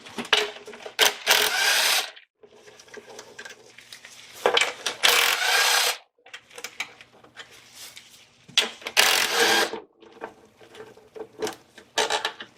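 A ratchet or wrench backs out 10 mm bolts from the engine cover of a 1999 Acura RL, close rasping bursts of clicking turns separated by brief silent pauses as each bolt comes loose.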